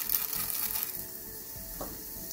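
Fenugreek seeds fry in coconut oil at the bottom of a pan while Udupi-style sambhar masala is prepared, giving a steady, fairly quiet crackling sizzle with a brief stir-like scrape near the end.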